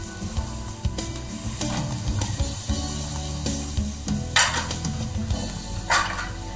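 Kamal kakdi (lotus stem) kebabs fry in hot oil and are turned with a slotted spoon. A loud, steady sizzle runs throughout, broken by scraping and a few bright clinks of the spoon against the pan.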